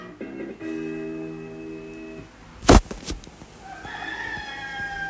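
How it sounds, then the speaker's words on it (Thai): A rooster crows in a long drawn-out call, followed by a sharp clack and another bird-like crow fading out. "นี่เสียงไก่เอ็กอีเอ็กเอ็ก"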